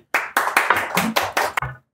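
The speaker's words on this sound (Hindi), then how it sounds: "एक बार जोरदार तालियों से स्वागत कीजिए मेरे फेवरेट वैद नटवर लाल जी." Hand claps greet a guest on a comedy talk show: about eight sharp, separate claps in a quick, uneven rhythm, close and fairly loud, with no talking.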